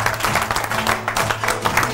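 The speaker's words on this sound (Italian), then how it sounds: "un applauso per Bravi! Il nostro pubblico." Clapping from the audience at a dance event with orchestra, loud and close, a lively rhythmic patter of many hands with low musical tones humming underneath.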